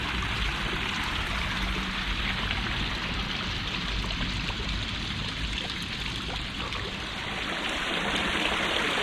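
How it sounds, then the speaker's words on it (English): Water spills steadily down a naturally sloped garden pond cascade, a continuous close trickling and splashing that runs without pause and with no voices. "And the cascade, something this pond was always crying out for."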